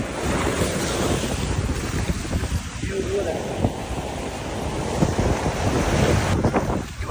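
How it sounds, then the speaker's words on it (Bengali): Sea waves rolling gently ashore at Digha Mohona, a continuous broadband wash of surf mixed with heavy wind buffeting the microphone, no distinct wave crashes standing out. "এইখানে জলগুলো দেখো কত সুন্দর আস্তে আস্তে আসছে ঢেউগুলো"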